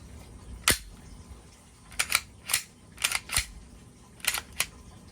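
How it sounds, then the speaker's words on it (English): The slide of a Glock Gen 5 MOS pistol is racked several times, giving sharp metallic clacks, single and in quick pairs, close and crisp against a quiet background. "make sure the slide cycled"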